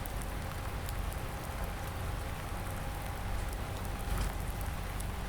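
Steady rain falls in the farming game Farming Simulator 19, a continuous hiss of drops on surfaces with a faint constant hum underneath and no talk.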